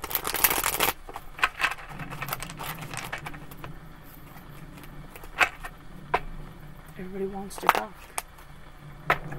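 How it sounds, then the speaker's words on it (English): Tarot cards are shuffled by hand in short riffling and tapping bursts, quiet and close, while a person talks intermittently. "Or my hands just don't want to shuffle one or two."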